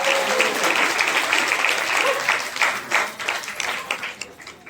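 An audience at a religious katha gathering during a temple Kartik festival claps together in sustained, dense applause that gradually thins and tapers off toward the end.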